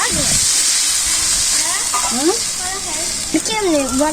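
Cumin paste fries in hot oil with a loud, continuous sizzle and hiss, heard up close in a village kitchen while people talk over it.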